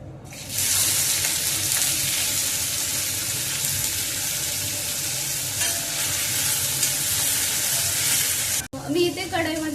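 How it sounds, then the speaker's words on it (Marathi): Chopped chilli, ginger-garlic paste and capsicum fry in hot oil in a kadhai as momo filling, with a loud, continuous close sizzle and stirring scrapes. A brief break near the end leads into a different clattering sound. "त्याच्यात ते चॉपर केलेले जे आहे मिरची, आलं लसूण पेस्ट आणि शिमला मिर्च तेलात चांगलं भाजून घेत आहे."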